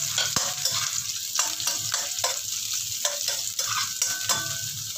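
Garlic, onion and ginger sauté in hot oil, a loud, continuous close sizzle broken by regular scrapes and taps of a spoon stirring the pan, with no talking.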